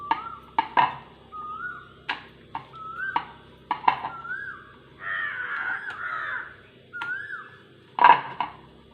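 Crows caw repeatedly outdoors, a string of harsh calls at uneven intervals, fairly near and clear, with occasional knocks and clatter from kitchen work in between.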